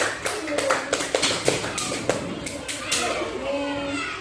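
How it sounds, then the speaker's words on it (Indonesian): Young pupils in a grade 4 classroom clap for two classmates, Sabrina and Kevin, a loose scatter of uneven claps and taps with children's voices in the background. "tepuk tangan untuk Mbak Sabrina dan Mas Kevin"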